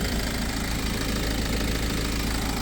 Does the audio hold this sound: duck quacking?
no